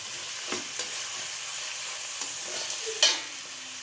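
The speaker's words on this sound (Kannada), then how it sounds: "ಹಾಗೆ ಈಗ ಸ್ವಲ್ಪ ಅರಿಶಿನ ಪುಡಿ ಚೆನ್ನಾಗೆ ಮಿಕ್ಸ್ ಮಾಡ್ತಿದ್ದಾರಮ್ಮ" Turmeric powder is stirred into onions in a frying pan: a soft, steady sizzle with a few light scraping strokes and one sharper clatter near the end, no talking.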